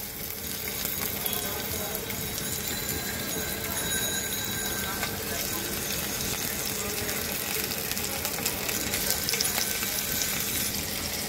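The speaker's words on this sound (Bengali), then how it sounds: "মাছটাকে ভেজে নেব।" Salt-and-turmeric-coated fish frying in oil in a wok, a steady, dense sizzle with crackling that runs throughout, at close range under moderate kitchen noise.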